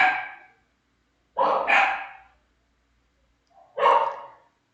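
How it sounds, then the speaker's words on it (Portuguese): A single dog barks in three separate bursts at close range, with brief silent gaps between the barks and no talking. "E o cachorro late. E late muito."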